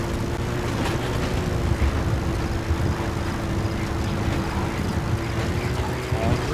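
Steady droning engine hum of a helicopter arriving in the Metal Gear Solid V video game, a constant mid-loud whir with a sustained tone lasting throughout, no speech.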